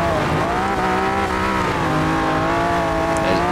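A 1968 Ferrari 365 GTB/4 engine in Forza Horizon 4, droning steadily at high revs with a rich harmonic tone and slight pitch wavering, loud and continuous with no break.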